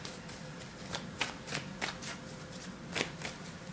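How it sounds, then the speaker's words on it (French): Tarot cards are handled and shuffled up close, a quick run of crisp riffling slaps and flicks at an uneven rhythm, with no voices. "Je vais essayer de recouvrir certaines cartes avec des cartes mineures."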